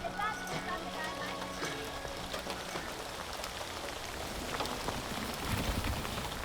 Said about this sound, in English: Well, it started raining in the last hour.